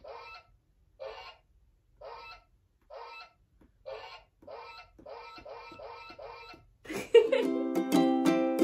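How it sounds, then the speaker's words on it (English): A goose and a gosling honk in a steady series of short, nasal calls about once a second, growing quicker toward the end, then give way to a bright sustained tonal chime. "That's a goose and a gosling."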